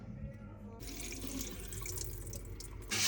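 Water being poured off scalded poppy seeds, a steady trickling splash lasting a few seconds, close and moderately quiet, growing louder near the end.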